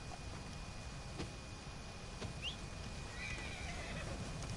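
A horse in Red Dead Redemption 2 gives a faint whinny while a few soft hoof clops sound at a distance against a quiet, hissy outdoor background.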